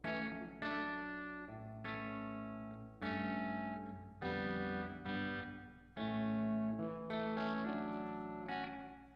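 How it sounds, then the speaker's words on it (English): Guitar played through an amp with reverb switched on, a series of strummed chords and ringing notes with short gaps, each swelling and fading into a spacious tail, clear and alone. "So let's try the reverb, shall we? Turn it on."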